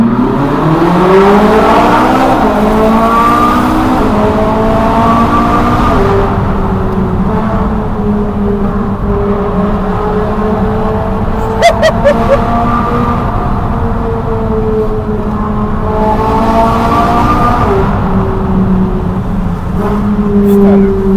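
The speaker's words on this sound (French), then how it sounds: "le bruit, il est fou, hein. ce V8 atmosphérique" Ferrari 458 with a naturally aspirated V8 revving hard inside a tunnel, a loud, continuous rising and falling engine howl echoing off the walls for the whole stretch, with excited talk over it.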